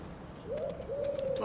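Pigeon in Marvel's Spider-Man video game giving a soft low coo, a short warbling call rising out of faint background game ambience, quiet and alone.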